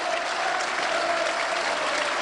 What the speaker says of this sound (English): Stan Ternent just applauding the Burnley fans.